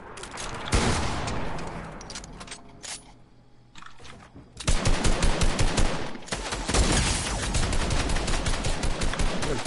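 Rapid video game gunfire crackles in dense, loud bursts, pausing briefly before resuming in sustained automatic volleys near the listener.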